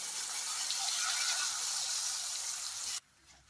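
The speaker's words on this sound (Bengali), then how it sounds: "এবার গরম জল দিয়ে দেবো।" Hot water is poured into spice paste frying in oil, a steady bright hiss and splash lasting about three seconds before cutting off abruptly into quiet.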